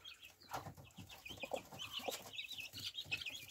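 A brooding hen clucks and newly hatched chicks peep continuously at close range, with overlapping chirps and soft clucking throughout.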